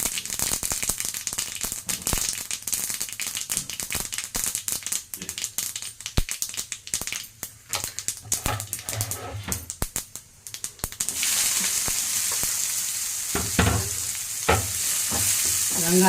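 Mustard seeds and urad dal frying in hot oil in a pan, a loud continuous sizzle with crackling pops and stirring rattles that grows into a steadier hiss toward the end, with no talk.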